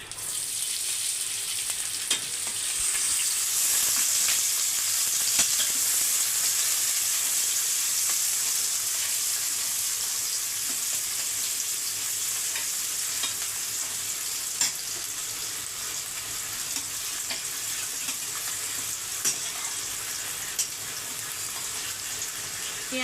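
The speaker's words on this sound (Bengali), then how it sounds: "পেঁয়াজগুলো ভাজা হচ্ছে" Onions fry in hot oil in a pan for paneer kasundi, giving a steady, close sizzle that runs throughout with occasional faint stirring clinks.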